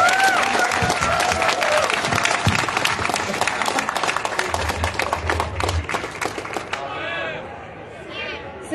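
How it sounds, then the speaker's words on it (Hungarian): Outdoor crowd at a political rally on a city bridge breaks into sustained applause and cheering, dense clapping with a few shouts and whistles, fading toward the end. "Óriási nagy tapsot Mariettának."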